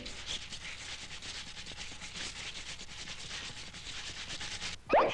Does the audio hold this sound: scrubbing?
yes